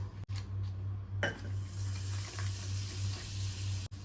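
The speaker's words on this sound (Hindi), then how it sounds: "एंड यस, जीरे का तड़का भी चाहिए।" Cumin seeds sizzle steadily in hot butter, continuous and close, with a faint clink near the start and no talking.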